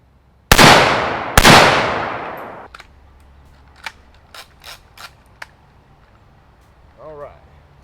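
Two loud, sharp shots from an M92 AK-pattern rifle fitted with an LMT Ion 30 suppressor, each trailing a long decaying ring, followed by faint clicks and handling noises.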